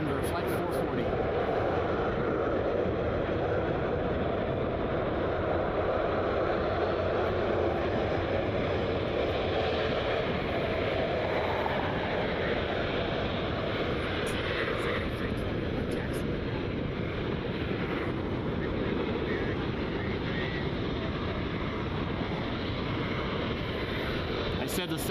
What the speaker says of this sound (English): This aircraft is heading to Denver, flight 440.